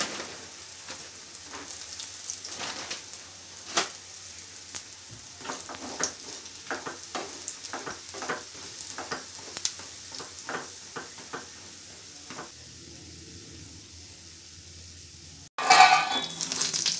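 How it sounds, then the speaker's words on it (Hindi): Makhana (fox nuts) frying in a pan, a steady soft sizzle with scattered sharp crackles and stirring clicks, growing busier midway, then a sudden louder burst of bright hiss near the end. "हम मखानों को फ्राई कर लेंगे।"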